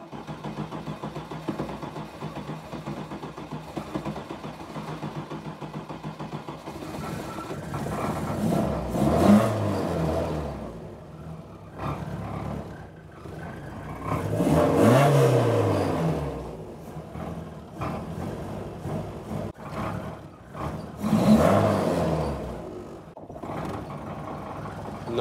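A warm car engine cranks and revs in three loud surges roughly six seconds apart, each swelling and falling back to a rough idle, with steady engine noise throughout and no talk.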